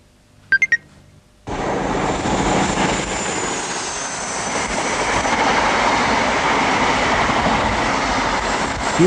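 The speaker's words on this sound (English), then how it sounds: "Here's the 840 to Peterborough." Passenger train to Peterborough rumbling past, a loud sustained roar that comes in abruptly after a couple of short high beeps and holds steady to the end.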